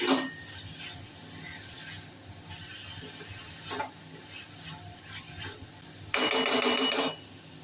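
Modak filling of wheat-flour dough sweets being stirred and sautéed in a pan with cardamom powder, giving soft scraping and faint sizzling throughout, then a louder burst of metal clatter near the end, with no talking.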